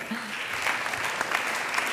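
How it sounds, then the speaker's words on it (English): Audience applauding at the Team Jumbo-Visma 2023 cycling team presentation, a continuous moderate patter of clapping from a crowd with faint voices underneath. "Yes, keep clapping, ladies and gentlemen."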